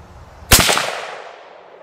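A single rifle shot from 6.8 Western match ammunition fired at a 100-yard range, a sharp loud crack followed by a long decaying echo tail.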